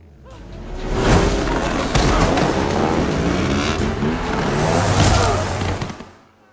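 A loud engine roars close by, revving and whining as a motorcycle speeds past, with a low rumble swelling and fading away at the end.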